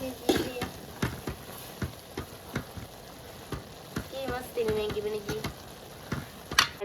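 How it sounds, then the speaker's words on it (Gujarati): A spoon stirs Maggi noodles cooking in a pan, giving irregular scraping taps against the metal over a soft sizzle, close and moderately loud. "મસ્ત મસ્ત મેંગી પાકે છે ને આપણે હલાવી"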